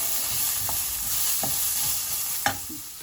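Onion and garlic scapes frying in hot oil in a pan, stirred with a few scraping strokes over a steady low sizzle, with one sharper clatter near the end; no one speaks.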